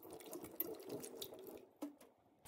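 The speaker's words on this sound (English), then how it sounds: "So this is the first rinse, and I usually use just the top water." Tap water runs steadily over strawberries in a bowl during a first rinse, a soft splashing trickle close by with brief sputters and a short pause near the end.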